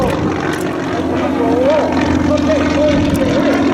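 A propeller airplane at the Oshkosh EAA airshow drones loudly and steadily nearby, its engine pitch wavering slightly, while someone speaks briefly over it.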